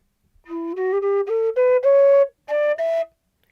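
A Dorian mode scale climbs in seven separate notes on a pure, whistle-like synthesized tone, each note clear and evenly loud, with a short gap before the final two.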